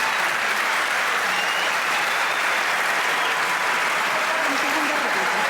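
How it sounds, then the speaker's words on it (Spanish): Loud, continuous applause from a debate audience fills the hall without pause, a dense wash of clapping with crowd noise mixed in. "Un aplauso para ellos y una pifia para el Estado ineficiente"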